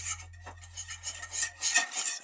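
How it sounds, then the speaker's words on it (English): Evaporated milk being whisked in a bowl as a glaze for homemade bakery-style croissants, a steady run of quick light scraping and tapping strokes against the bowl, close and fairly quiet, with no talking. "I'm gonna use about a 1/4 cup and whisk that around."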